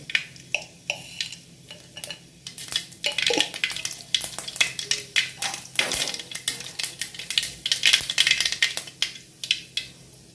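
Mustard seeds crackle and pop in about five or six spoons of hot oil while a tempering for chicken sukka is made, giving dense, irregular sputtering bursts close by with clinks of a spoon on the pan and no talk.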